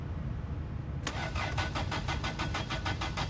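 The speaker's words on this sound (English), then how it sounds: "cross our fingers and pray that the car actually starts." A car engine in My Winter Car cranks with a cold block and the choke pulled out. The starter turns over in a steady rapid rhythm that runs nearly three seconds, loud and alone, over a constant low rumble.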